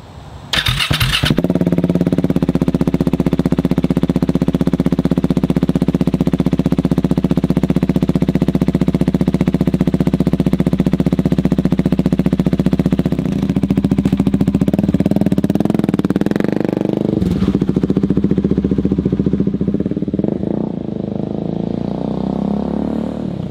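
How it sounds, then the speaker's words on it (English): A Husqvarna Svartpilen 701 motorcycle fitted with a BW performance kit starts from cold with a short starter whir, then settles into a loud, steady single-cylinder idle with a deep throbbing rumble, a brief rev blip late on, and slight clatter. "let's go ahead and give you guys a cold startup"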